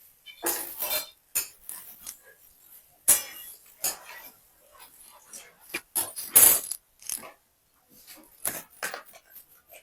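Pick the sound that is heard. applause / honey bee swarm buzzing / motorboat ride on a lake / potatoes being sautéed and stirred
potatoes being sautéed and stirred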